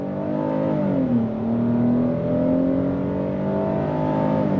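A 2026 Hyundai Palisade Calligraphy SUV with an 8-speed automatic accelerates under throttle, a steady, loud engine drone rising in pitch, dipping briefly at a downshift and then climbing again, heard from inside the cabin.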